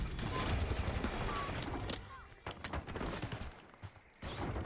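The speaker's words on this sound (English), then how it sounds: "Oh, dude, I got sniped" Gunfire in Black Ops 6 on the Nuketown map, a dense burst of shots and impacts in a chaotic multiplayer match, loud and close with game noise and a voice over it.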